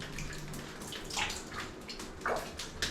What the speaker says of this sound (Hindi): पूरा ये ऐसे पानी यहाँ टपकता रहता है।